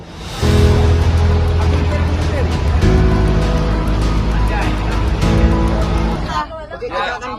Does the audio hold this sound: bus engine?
yes